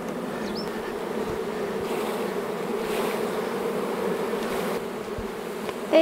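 Honeybees buzzing steadily around a flow hive, a dense, continuous hum from a large swarm close by, with a few individual bees zipping past, and no talk.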